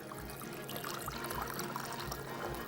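Water, vinegar and salt poured over raw chicken in a kitchen: a steady, close trickling pour that runs continuously for a few seconds with no talk.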